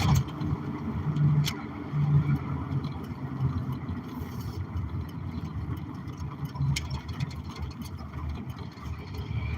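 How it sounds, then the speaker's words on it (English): A truck engine hums low and steady while driving, a continuous rumble with mild swells and faint cabin noise, and a voice speaks briefly over it. "It's not a car, it's a truck."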